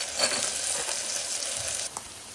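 Paneer cubes frying in a pan until golden brown on both sides hiss in a loud, dense, continuous sizzle, close up and with no voices.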